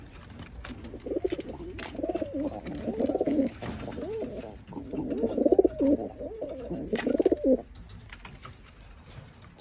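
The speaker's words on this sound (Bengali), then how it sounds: "সবগুলো কবুতর ব্রিডিং সেটআপ করা।" Teddy pigeons in a breeding setup in Oman coo in soft, throaty bursts, several birds overlapping in two long rolling runs with a brief lull between, close by and moderately loud.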